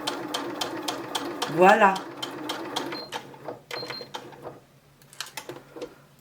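A sewing machine stitches a fabric school pencil case in short bursts of rapid mechanical clatter, pausing between runs, while someone speaks French over it.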